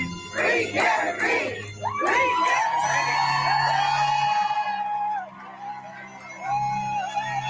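A large crowd gathered outside a Karen Read court hearing in Massachusetts whoops, yells and cheers, the shouts rising and falling in loud bursts over about seven seconds with no break.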